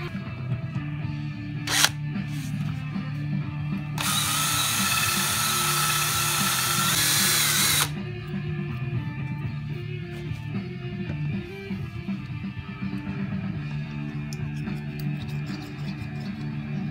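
A Dremel rotary tool with a small ball attachment from its kit whirs in a loud four-second burst, cleaning paint off a drive shaft yoke on a 1968-72 Chevelle during a universal joint job, with a brief click before it and shop noise around it.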